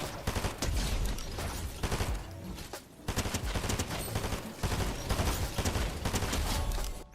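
Rapid bursts of Thunderburst SMG fire in Fortnite, several loud clusters of shots separated by brief pauses, with no talk.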